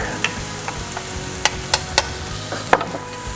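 Garlic sizzling in a pan of Cajun chicken pasta, a steady frying hiss broken by several sharp spatula clicks and scrapes as it is stirred, close and without talk.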